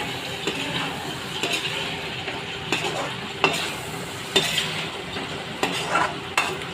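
Fried potatoes are stirred into a sizzling meat curry in a pan. A steady fry runs under a series of spoon scrapes and clinks against the pot, about one every second, with no talking.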